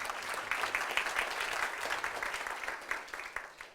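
Modest applause from an audience at an academic event on segregation and Black Lives Matter, a steady patter of clapping with a slight swell early and quieter, uneven claps toward the end.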